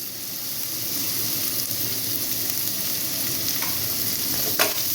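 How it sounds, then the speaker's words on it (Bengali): Spice masala stir-fries over a low flame for a banana-flower cutlet, a loud, dense, continuous sizzle close by, with light stirring scrapes and one brief knock near the end. "দিয়ে এটাকে ভালো করে একটু মশলাটাকে কষিয়ে নিয়ে"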